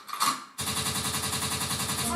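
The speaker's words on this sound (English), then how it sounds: "a gunshot means forward" Gunshot sound effect from an Amazon Echo Dot smart speaker, heard as a sudden burst of rapid, machine-gun-like repeated shots that starts abruptly after a short stretch of quieter audio and continues steadily.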